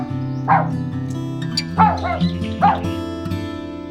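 A small puppy at Yeongguksa temple in winter gives a few short, high yips and barks in greeting, close by, over steady music.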